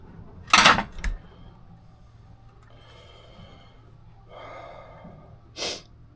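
A few sharp nasal sniffs and snorts, close by, while working on a Triumph Stag Mk1 Stromberg carburetor, separated by quiet stretches with faint clinking in the background.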